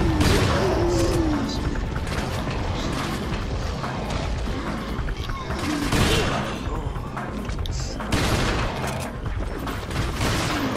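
A thrown grenade bursts in the Resident Evil 4 Mercenaries mode at a castle, heavy booms and crashing blasts recurring over a loud, dense stretch of gunfire and clattering action.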